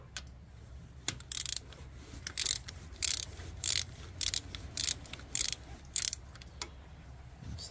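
A ratchet fitted with a 13 socket on an extension loosens the thermostat bolts on a 2008 Chrysler 300C 5.7. Quiet, close, rhythmic clicking comes in repeated short strokes over a low steady background hum.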